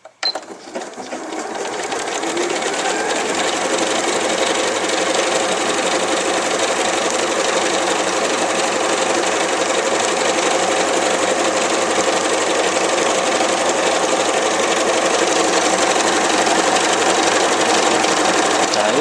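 An Elna Lotus computerized sewing machine stitches a decorative border, starting up and then running in a fast, even, continuous rhythm close by for nearly the whole stretch.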